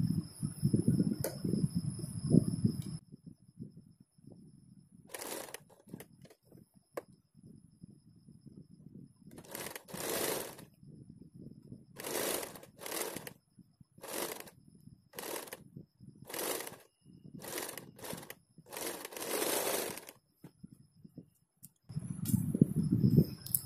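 A sewing machine stitches sleeves onto a house coat in bursts, short runs of rapid whirring separated by pauses, with rustling fabric handling before and after.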